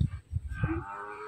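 Cattle mooing at a cattle farm selling bulls, a few low, drawn-out calls close by with one tonal moo rising near the end, no talk over them.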